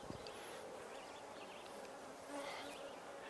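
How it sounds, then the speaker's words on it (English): A bee buzzes continuously around someone setting up a beehive, a steady close, whining drone that swells slightly near the end. "And I got a bee buzzing around me."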